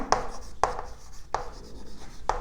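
Marker strokes on a board while jotting down expenses, four distinct scratchy strokes spaced roughly half a second apart, close and clear with quiet room noise between.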